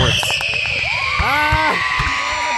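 Fireworks in Idaho pop and whistle in a dense, loud, continuous barrage, with rising whistling tones over a roaring background and music buried beneath.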